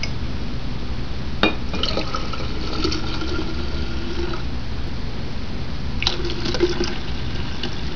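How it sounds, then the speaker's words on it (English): Kombucha is poured from bottles into a jar in a steady, continuous liquid stream that runs for several seconds, with a few small splashes and glassy clinks near the start and later on. "I am going to pour half of each bottle in because the cultures will come out in the first pour."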